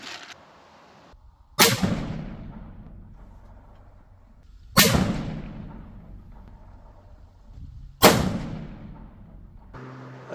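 A custom .338 Lapua rifle fires three sharp, loud shots spaced about three seconds apart, each with a booming decay, with quiet pauses between them outdoors.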